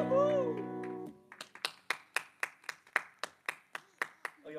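A small live-show audience claps in a steady, separate rhythm, about a dozen distinct, fairly close claps, following a brief sung or voiced tone at the start.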